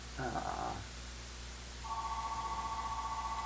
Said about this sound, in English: Oh, there's your phone.